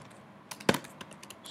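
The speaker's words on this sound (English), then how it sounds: "Let's type in defaults write" A Mac computer keyboard typing a terminal command: a few close key clicks, one sharp loud press standing out among lighter taps, in a quiet room.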